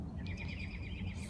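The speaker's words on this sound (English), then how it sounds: "Birds over there." Birds chirping faintly in a Philippine forest, small tweets and calls over a low, steady ambient hum, with possible insect buzz mixed into the quiet background.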